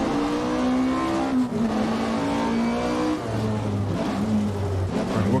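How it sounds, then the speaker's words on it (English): A rally car's engine revs hard as it accelerates on a downhill stage in Richard Burns Rally, the pitch climbing through the gears with brief shift dips, steady and loud throughout. "The car's picking up speed quite quick."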